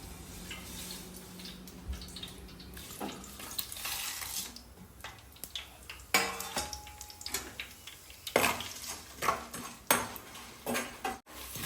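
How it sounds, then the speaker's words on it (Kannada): Whole spices fry in a mix of half oil and half ghee in a pan for a restaurant-style paneer mushroom kadai masala, with soft crackling under clinks and scrapes of utensils against the pan, getting louder toward the end. "ಈಗ ಇದು ಸ್ಪೈಸಸ್ ಫ್ರೈ ಆಗಿದೆ"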